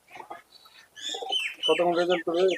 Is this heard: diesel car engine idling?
no